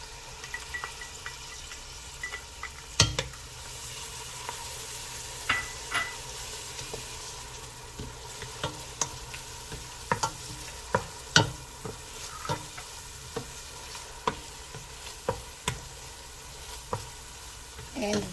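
Pepper frying in a pan for a linguica pea stew, a constant close sizzle broken by repeated sharp clicks and scrapes of a utensil stirring, with no talking.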